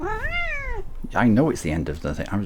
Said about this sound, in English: That's my cat Dylan.